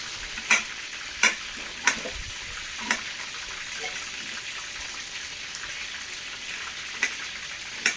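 Food frying in a pan, a soft steady sizzle broken by a handful of sharp spatula clacks at irregular intervals, close by with no speech.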